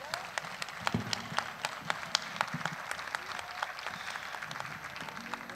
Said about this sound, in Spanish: Por favor, un fortísimo aplauso para todos.